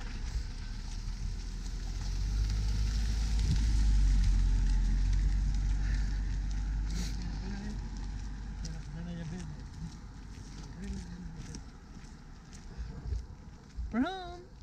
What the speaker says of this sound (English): Can I wait for this car to go?